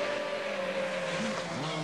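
Rallycross cars at Strängnäs race flat out in top gear toward the finish, a sustained engine drone with a steady tonal whine and a brief rising pitch sweep, moderately distant and fairly quiet.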